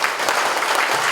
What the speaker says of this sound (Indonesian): Tepuk tangan yang meriah untuk Pak Wali.